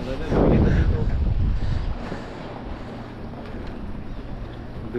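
Strong wind buffets the microphone on a rocky island beside a moored boat, a loud gust rising at first and then settling into a steady rushing roar, with waves faintly underneath.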